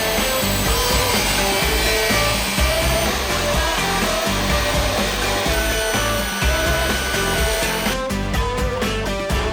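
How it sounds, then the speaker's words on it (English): A power saw set to a 10-degree bevel cutting a porch ceiling board, a loud continuous whining, rasping cut that ends in a few clattering knocks. "got our saw set to about a 10-degree bevel"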